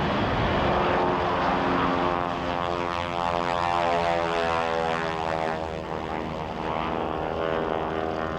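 A propeller airplane flying a wing-walking routine drones steadily nearby, its engine tone holding even and full throughout, slightly easing toward the end.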